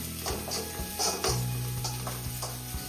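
Ingredients stirred and sautéed in a pan for a Kerala meal, with steady sizzling under repeated scraping and clattering strokes of a spoon against the pan, close and fairly loud.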